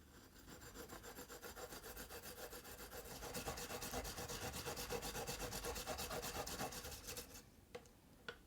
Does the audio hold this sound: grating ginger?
yes